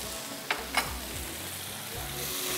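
Tomatoes, green chilies, ginger and garlic fry in a pan, a steady soft sizzle with a couple of brief stirring clatters near the start.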